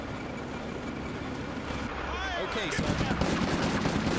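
Gunfire in Combat Mission: Afrika Korps crackles in the distance, with scattered shots and bursts over a steady rumbling background that grows louder toward the end. Someone talks over it.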